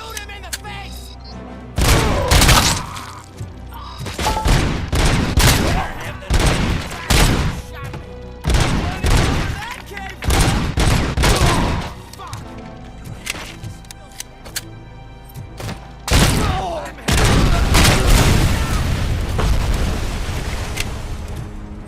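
Repeated bursts of heavy gunfire from the RoboCop: Rogue City shooter come in loud, sharp volleys with booming impacts throughout, in a game battle against criminals.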